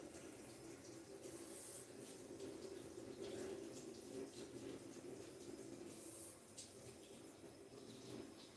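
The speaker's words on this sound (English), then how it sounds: "I'm going to fill this with the warm water so that it can thaw the blueberries." Warm tap water runs steadily into a measuring cup in a home kitchen, a continuous close hiss and splash with no talking over it.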